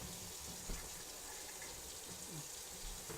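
Water runs steadily from a tap into a cheap kitchen sink, a continuous broadband gush with small splashes and clatters at a close, moderate level.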